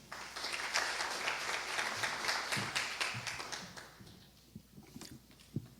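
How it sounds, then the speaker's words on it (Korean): Audience applause greets a team leader from the Korea Electric Power Corporation distribution planning office at a power distribution forum, broad and steady, then thinning into scattered claps. "큰 박수 모시겠습니다."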